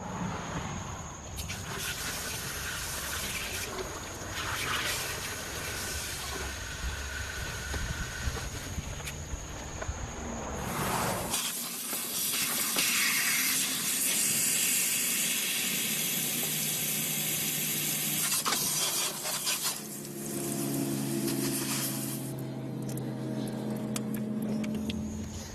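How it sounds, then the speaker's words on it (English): A hose blasts water to flush a car radiator, a loud, continuous hissing spray that grows harsher and stronger partway through and keeps going steadily. No one talks. "I'm going to go ahead and flush out the radiator and give it a nice blast"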